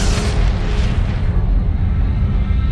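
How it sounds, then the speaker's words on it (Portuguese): A loud, rumbling explosion for a huge star blowing up in the Milky Way, a dense roar that fills the short stretch and fades toward the end. "Em nossa galáxia, a Via Láctea, uma imensa estrela explode"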